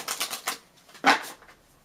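A tarot deck is shuffled by hand in a run of quick, papery riffling clicks, ending in a sharper snap, close and clear with no talking.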